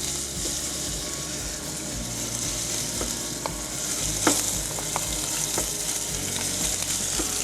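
Finely diced veal cubes frying in a little oil over medium heat, a steady close sizzle with soft stirring clicks and scrapes, no talk.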